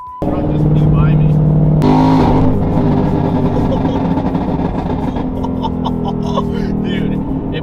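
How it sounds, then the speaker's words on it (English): A truck rushes past a car on the road at sunrise, its roar swelling sharply then fading under the steady loud drone of the car's own engine and road noise. "Truck just flew by me."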